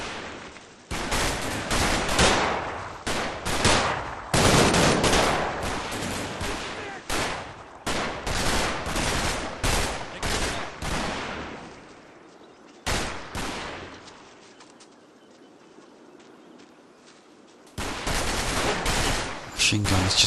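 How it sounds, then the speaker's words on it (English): Suppressing gunfire in the Combat Mission Market Garden war game, dense bursts of rifle and machine-gun shots hammering loudly for about twelve seconds, a lull, then firing resumes. "Got some suppressing fire going down on the building area here."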